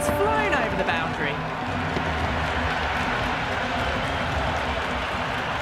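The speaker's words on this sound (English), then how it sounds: "The crowd are loving every minute of this match." Stadium crowd roaring and cheering in the Cricket 26 video game during an India versus West Indies match, a dense, steady wash of noise held for several seconds after a six, with a brief whistle-like tone near the start.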